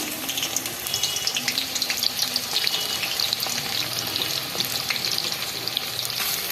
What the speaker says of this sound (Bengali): গরম হয়ে গেছে পেঁয়াজগুলো দিয়ে দিচ্ছি ভাজার জন্য